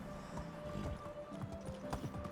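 A horse in the video game Medieval Dynasty clip-clops at a steady walking rhythm, its hoofbeats fairly close and soft against a low background hum.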